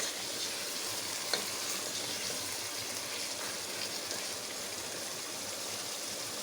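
Chicken pieces with spices and yogurt fry in hot oil for biryani, giving a steady, loud crackling sizzle that runs throughout with no voices.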